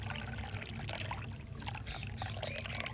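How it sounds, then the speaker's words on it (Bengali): Hot water pours into a bowl in a soft, continuous trickling stream, quiet and close, with no talking. "এটা একটা পাত্রের মধ্যে এইভাবে ঢেলে নিলাম।"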